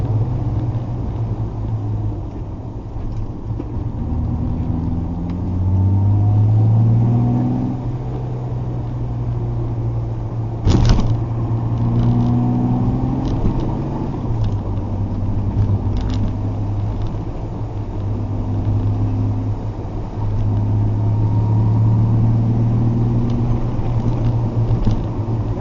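An E-type Jaguar driving along a curving road on the Niagara Escarpment gives a steady, loud low engine drone throughout, rising and easing slightly, with one sharp knock partway through and no talking.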